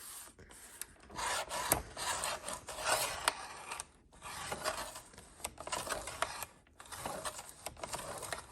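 Blade cutting down the second side of stacked paper signatures for a junk journal, a close, steady rasping scrape in several long strokes with brief pauses between them.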